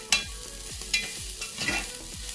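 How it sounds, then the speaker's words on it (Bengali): Vermicelli frying in a pan, a steady sizzle broken by a few sharp stirring scrapes at a regular rhythm, close and fairly quiet with no talk. "তো আমি ভালো করে এটার সাথে একটু ভেজে নিই।"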